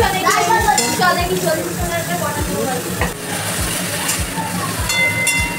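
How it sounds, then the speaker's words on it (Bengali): Fish pieces salted lightly and frying in hot oil in a home kitchen, a steady loud sizzle with regular scraping and stirring thuds throughout. "হালকা নুন দিয়ে দুটো পিস করে একটু ভাজবো"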